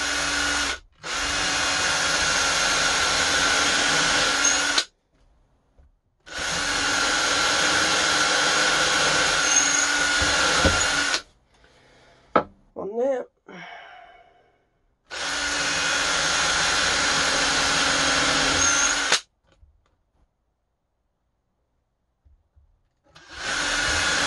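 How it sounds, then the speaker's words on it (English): A power drill whirs in three long, loud bursts, drilling holes in wooden loudspeaker cabinet side pieces, separated by pauses with a few clicks and clunks of handling between them. "so then we need to drill two in these end piece, side pieces"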